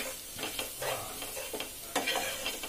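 Turmeric, ginger and hot red chili are mixed into food in a pan, with repeated close scraping strokes of a spoon over a low sizzle and no talking.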